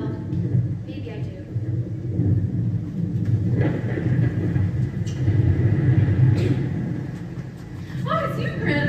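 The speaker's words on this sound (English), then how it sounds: "You're not scared of a thunderstorm, are you?" Low, sustained thunder rumbling through a thunderstorm at night, a steady deep roll running the whole time, with musical score and faint voices layered over it.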